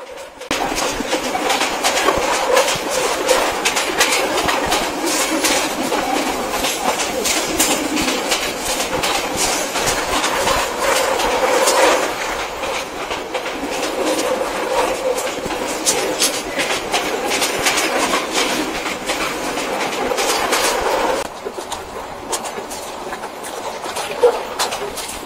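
A mail train runs steadily through hilly country near Sitakunda and rolls into the Sitakunda railway station, with continuous loud wheel rumble and clickety-clack, which eases slightly toward the end.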